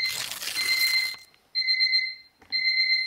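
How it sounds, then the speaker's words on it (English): A new alarm clock sounds in loud, piercing electronic beeps, a long tone followed by two sustained bursts separated by short silences, preceded by brief rustling. "By the way, new alarm clock, fire."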